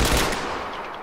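A short, loud burst of rapid gunfire in a police-versus-bikers video game shootout, sounding close and harsh as it fades over about a second.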